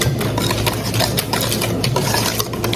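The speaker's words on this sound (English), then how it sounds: "So you're just gonna stir it up till you don't see any more the egg yolk" A hand whisk stirs brownie batter of eggs and brown paste in a bowl, making a steady, close scraping and sloshing rhythm that runs the whole time with no voices.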